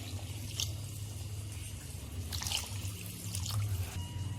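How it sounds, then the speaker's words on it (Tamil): Water pouring steadily into a pot of mutton biryani, a soft continuous splashing rush, fairly quiet and close. "இன்னும் 3 கப் நான் வந்து தண்ணி சேர்த்துக்கிறேன்"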